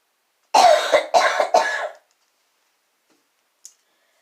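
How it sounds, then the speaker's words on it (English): A person recovering from a winter cold gives three quick, close coughs in a row, followed by silence and a single faint click. "And if I cough, I'm sorry."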